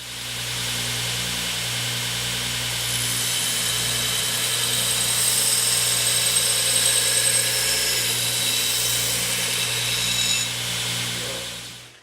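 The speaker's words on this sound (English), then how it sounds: "So yeah, keep grinding." A stock removal camp knife blade being rough-ground into a full bevel on a belt grinder: a steady, loud, continuous abrasive whir with a motor hum underneath, running nearly twelve seconds alone without talk.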